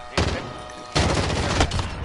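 Sniper rifle fire in Modern Warfare, two loud booming shots with the second followed by a rumbling tail, set against game background noise.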